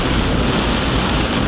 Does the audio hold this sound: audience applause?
no